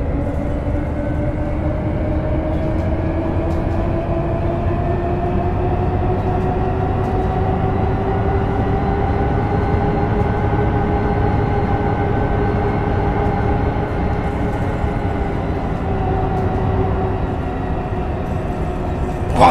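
A MAN A37 eMobility electric city bus driving on Berlin-Spandau line 28, heard from inside as a loud, continuous electric motor whine that rises gently in pitch and then falls, over a steady rolling rumble.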